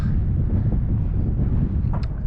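Strong, frigid wind buffets the microphone in a steady low roar during winter ice fishing, with no voices.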